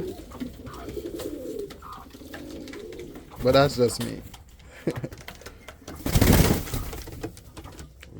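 Pigeons coo in a breeding loft, soft rolling calls rising twice to louder bursts nearby while someone talks briefly over them.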